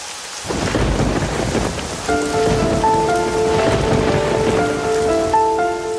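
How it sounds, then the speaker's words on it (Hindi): Heavy rain pours steadily with a rumbling thunderstorm quality, loud and constant, while music with sustained tones comes in partway through. "बेटा बारिश में मत भीगो, जुकाम हो जाएगा।"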